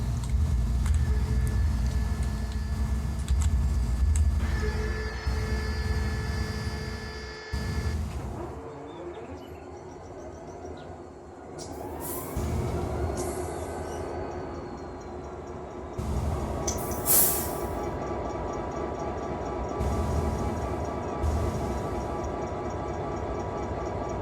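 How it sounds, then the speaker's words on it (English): An SD40 locomotive with an EMD 645 diesel engine in the Run 8 train simulator makes a steady, heavy low rumble with a droning tone, dropping quieter midway and then settling into a sustained engine drone. "So that's the SD40 sounds, or the 645 sounds that I picked up."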